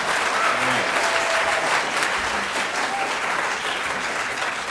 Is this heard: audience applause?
yes